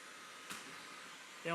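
A heat gun blows a steady, soft airflow hiss while warming vinyl wrap on a car bumper, with a brief bump near the middle and a louder surge at the very end.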